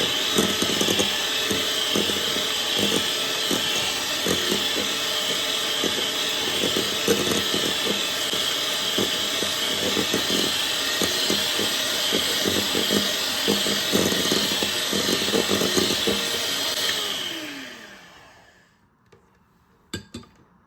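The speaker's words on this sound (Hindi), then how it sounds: "अब हैंड मिक्सर के साथ हम इसको बहुत अच्छी तरह से मिक्स कर" An electric hand mixer whirs steadily through mango pulp and condensed milk, a loud, constant high motor buzz with rattling beater texture, then winds down and stops near the end, followed by a few faint knocks.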